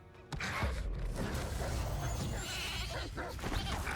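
A sheep bleats in the Hogwarts Legacy video game amid creaking, mechanical game noise and background sounds, fairly close and moderately loud.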